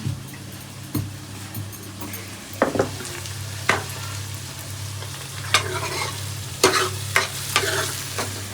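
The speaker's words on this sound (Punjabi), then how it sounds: "ਦਾਲ ਨੂੰ ਤੜਕਾ ਦੇ ਕੇ ਲਾ ਰਹੇ" Dal being tempered in a pan, spices sizzling and frying with a steady crackle, punctuated by sharp clinks and scrapes of stirring at irregular intervals.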